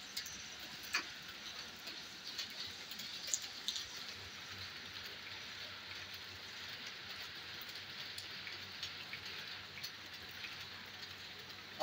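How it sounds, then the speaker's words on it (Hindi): Continuous monsoon rain pours down at night in Pindi with a steady hiss and scattered ticking drops tapping on a surface, unbroken throughout. "ये हमारे बारिश हो रही है।"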